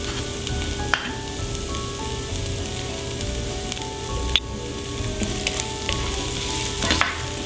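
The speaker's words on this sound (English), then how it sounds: "Now it's time to do the garlic." Garlic sizzling in a pan with beef fat, a steady close frying hiss with a few sharp clicks and scrapes of a utensil and no voices.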